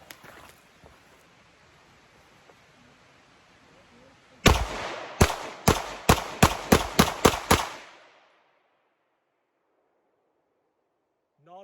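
Ten rapid shots from a CZ Shadow 2 pistol crack out one after another in a tight, even rhythm, loud and close, then ring off into quiet.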